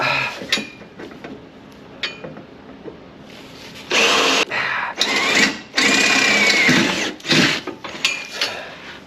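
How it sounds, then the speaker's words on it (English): A power drill whirs in several loud bursts close by, drilling a hole in a vehicle while installing a Blue Ox brake system, starting and stopping, with quieter pauses and faint clatter in between. "We're going to try to drill a hole back here."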